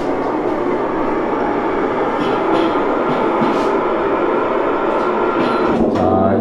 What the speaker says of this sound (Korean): 아, 지하철이 움직입니다.